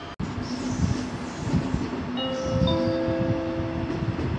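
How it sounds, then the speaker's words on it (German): ICE 914 to Münster pulls into platform 6 at Essen main station with a steady rumbling roll of wheels and rising tonal squeal of brakes, close and continuous throughout. "Gleis 6, Einfahrt ICE 914 nach Münster Hauptbahnhof über Gelsenkirchen."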